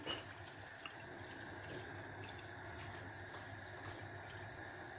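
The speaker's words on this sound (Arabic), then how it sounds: "دابا غادي نضيف الماء" Water runs steadily from a jug or tap into a pan of paella rice with seafood, a continuous close splashing fill lasting the whole stretch with no voices.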